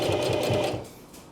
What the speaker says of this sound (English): we'll sew that square into it